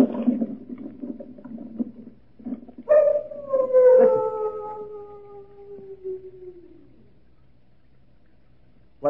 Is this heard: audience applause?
no